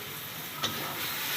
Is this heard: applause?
no